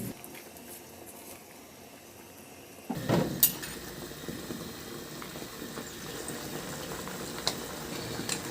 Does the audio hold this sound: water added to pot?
yes